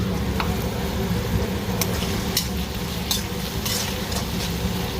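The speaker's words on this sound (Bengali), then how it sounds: "আদা রসুনের সাথে ভাজা হয়ে যাবে" Continuous loud frying with ginger and garlic in a pan, a dense close sizzle with occasional sharp clicks of a spoon or utensil against the pan.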